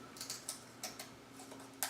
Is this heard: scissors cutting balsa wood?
yes